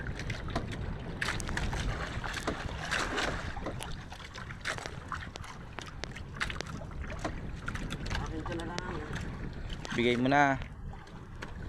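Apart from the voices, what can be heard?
fishing boat at sea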